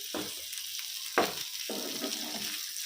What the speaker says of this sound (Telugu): అంటే చికెన్ ఫ్రై అయిపోతుంది ఆల్మోస్ట్